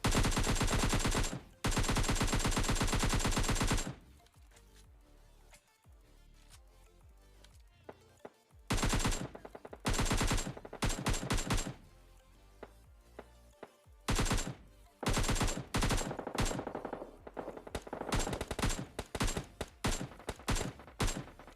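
Video-game gunfire from an AKM and a Bizon in a shooter challenge: long, dense automatic bursts of loud rapid shots, broken by short pauses and quieter stretches, then more clipped bursts toward the end, with no voices.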